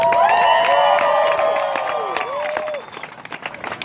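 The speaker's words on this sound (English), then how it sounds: "Give them a round of applause for that." Audience applause and cheering at a gathering, with crisp clapping under whoops and rising, falling shouted cheers that taper off after a few seconds.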